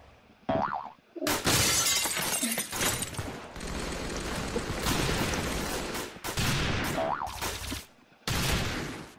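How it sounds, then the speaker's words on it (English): Gunfire in the Roblox game Arsenal, rapid bursts of game weapon shots and breaking effects in loud clusters separated by short gaps, close and punchy with electronic chirps. "Definitely someone's shooting me."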